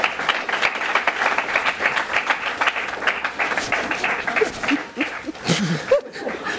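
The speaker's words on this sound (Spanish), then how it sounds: "Pido, por favor, un fuerte aplauso." Studio audience applauding and clapping during a live online stream, a dense steady patter of many hands lasting several seconds, with scattered chuckles and laughter mixed in near the end.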